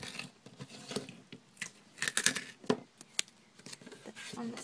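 Scissors snipping through a strip of duct tape while a business card holder is made, a few short sharp cuts clustered together with softer handling rustles around them, close up.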